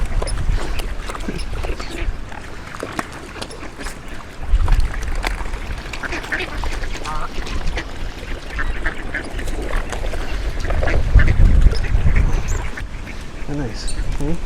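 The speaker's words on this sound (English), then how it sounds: "Ducks." Ducks quack intermittently beside a windy lakeshore, mixed with gusty wind rumble, swans and waterfowl nearby, while people chat and feed the birds in the foreground.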